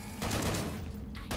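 Gunfire in the video game Killing Floor 2, a dense, loud, continuous burst of rapid shots that fills the whole moment.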